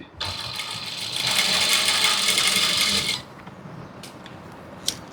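A sewing machine stitches along the edge of fabric for a chudithar, a steady close mechanical whir lasting about three seconds, then a quieter stretch with a few small clicks.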